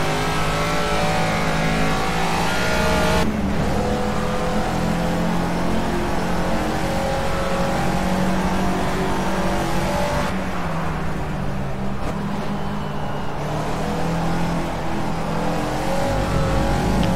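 A Caterham Super Seven race car in Project CARS laps Oulton Park, its engine loud and continuous as it accelerates and shifts, pitch rising and dropping through gear changes with faint tire noise.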